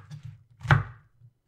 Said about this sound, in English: Now I'm cutting it into quarters and getting the core out.